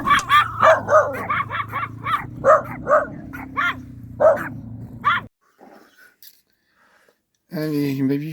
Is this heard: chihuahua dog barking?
yes